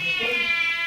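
A kitten's meow, a single short high-pitched cry held for under a second, close and moderately loud.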